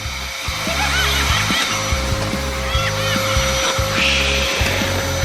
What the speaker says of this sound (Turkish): elektrikli süpürge ile büyük bir balonu şişirmene izin vermeyeceğim